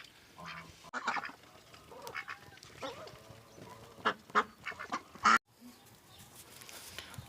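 Farm ducks in the morning: scattered quacks and honks, some close and loud, others softer, arriving in irregular bursts over a quiet background.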